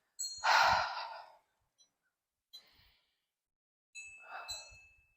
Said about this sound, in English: Take some big inhales, some nice heavy exhales.